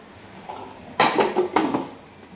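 A Hitachi high-frequency pressure rice cooker's inner pot is handled, giving a few bright metallic clanks and knocks close by, clustered in a short burst and then fading into quiet room tone.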